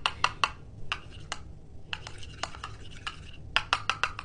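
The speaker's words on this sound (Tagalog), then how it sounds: "Haluin ko na." Homemade face mask mixture being stirred with a spoon in a small container, bursts of quick, bright clinks and taps up close with short pauses between.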